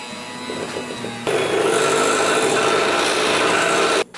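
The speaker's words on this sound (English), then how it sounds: "I'm going to use this handheld mixer here to mix it up" A handheld mixer whirs through cheesecake batter, starting as a softer rubbing hum and jumping to a louder, steady grinding whir before cutting off abruptly near the end.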